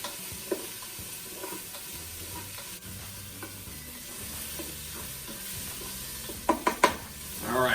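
Onions sizzle in a Ninja Foodi pot and are stirred, a low steady frying crackle with occasional spatula scrapes, ending in a quick burst of louder knocks against the pot.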